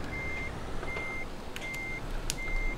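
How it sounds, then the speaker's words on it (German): A reversing truck in the Euro Truck Simulator 2 video game gives steady, evenly spaced electronic backup beeps over a constant engine drone, with a couple of faint clicks between them. "Boah, rückwärts fährt der LKW so langsam,"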